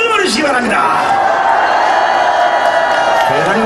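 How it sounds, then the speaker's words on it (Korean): An outdoor crowd at a rally cheering and shouting for three monks, a loud sustained roar of many voices with rising whoops, under amplified talk. "수고하신 세 분 스님께 감사의 응원의 함성을 보내주시기 바랍니다"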